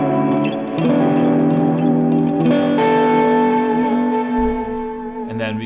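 Distorted electric guitar run through an Axe FX 3 multitap delay, sustained notes and chords smeared by repeating echoes and reverb, loud and continuous with no talking.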